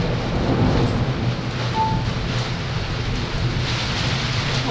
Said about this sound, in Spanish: Sí, porque la lluvia está de loco.